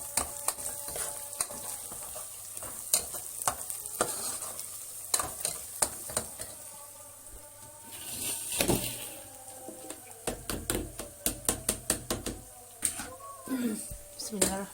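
Onions stirred in a frying pan at home, a steady sizzle under repeated scraping and clinking of a utensil, with bursts of stirring clatter throughout; a voice talks intermittently over the cooking.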